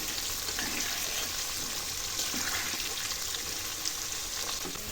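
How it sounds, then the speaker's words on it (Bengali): Potatoes fry in a pan for a mutton jhol dish, giving a steady, close, even sizzle with soft crackle that runs unbroken throughout, with no talking. "আলুগুলো আর একটু ভাজা হবে।"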